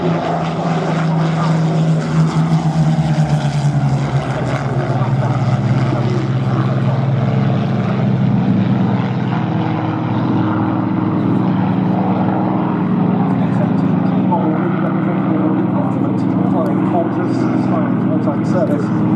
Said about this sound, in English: we've got the two buchons getting airborne